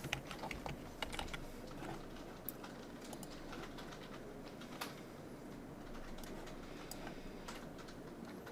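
Keys clatter on a computer keyboard in a quiet room, a faint, irregular run of taps with a few sharper clicks, alone with no talk.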